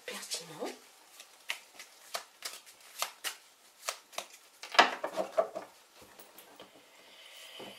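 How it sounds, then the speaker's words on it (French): Oracle cards being shuffled and drawn make a series of crisp, close flicks and riffles in irregular bursts, some sharper than others, with a soft voice faintly present. "Nous allons tirer une petite carte donc pour terminer les oracles."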